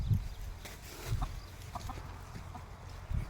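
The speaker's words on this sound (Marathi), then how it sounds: "हा कोंबडा आहे मोठा, 4 किलोचा कोंबडा आहे." A large four-kilo village rooster clucks on a farm. Its short, low clucks come at irregular intervals against quiet background noise, with no talk.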